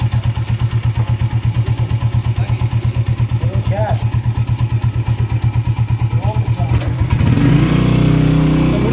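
A motorcycle engine idles with a steady, fast chugging pulse, then revs up near the end, with a few faint voices in the background.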